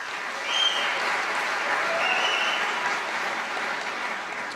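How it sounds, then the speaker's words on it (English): An event audience breaks into sustained applause, a dense wash of many hands clapping that swells early and holds steady before easing slightly, with no speech over it. "clap if you've come to all 5 of these events?"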